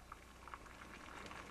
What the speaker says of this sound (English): we have boiling water